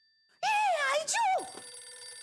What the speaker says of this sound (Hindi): जेठिया का फोन घर में ही है।